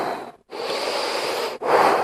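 Deep, steady breaths drawn in and let out at close range, two long airy exhalations broken by short pauses and followed by a stronger breath, with no talking.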